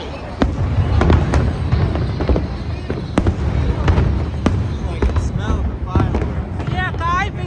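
Fireworks burst near the Brooklyn Bridge on the Fourth of July in a rapid series of loud, close cracks and booms, with crowd voices mixed underneath.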